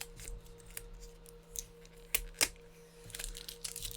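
Card Kingdom trading card package being cut and torn open, with faint crinkling and a couple of sharp snips and rips standing out against a quiet room hum.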